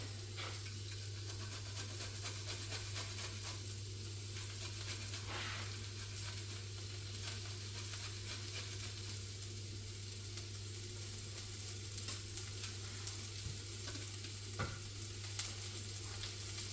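Garlic sizzles in a hot pan for a Bolognese sauce, a steady even hiss with occasional faint scrapes of stirring and a low constant hum beneath.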